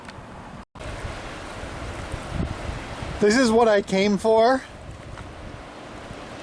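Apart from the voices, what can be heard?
ocean waves and wind on the Oregon coast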